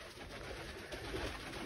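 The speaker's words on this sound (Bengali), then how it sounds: "দেখেন কবুতরের কি অবস্থা, লক্ষাগুলার অবস্থা দেখুন, খাওয়ার জন্য পাগল হয়ে গেছে।" Hungry pigeons waiting for food, soft low cooing under a steady faint background hiss, brief and quiet.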